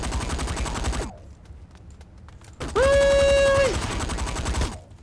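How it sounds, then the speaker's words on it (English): Rifle fire in the Saints Row IV video game, a loud burst of rapid gunfire at the start, a short lull, then another sustained loud blast with a ringing tonal whine, ending abruptly. "I even have a rifle. Check this out."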